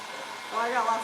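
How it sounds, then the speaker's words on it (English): A heat gun blows on a painted clay planter with a faint, steady whirring hiss that grows a little stronger partway through. "Oh, move the heat gun."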